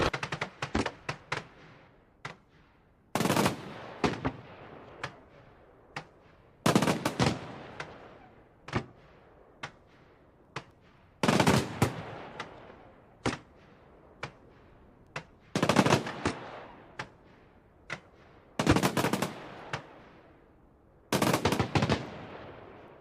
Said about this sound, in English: You don't see fireworks like this every day, so sit back and enjoy this amazing display.